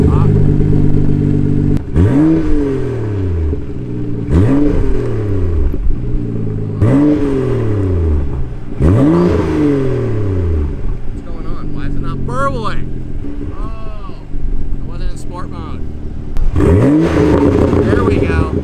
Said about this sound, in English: So when I open that, I'm pretty much getting a straight pipe sound, especially with that catless downpipe up front.